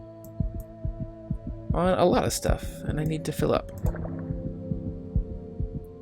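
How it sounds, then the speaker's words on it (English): Low-health heartbeat warning in the video game The Void: steady, deep, thudding pulses repeating evenly throughout, with a person talking over the middle stretch. "And you can hear the heartbeat in the background."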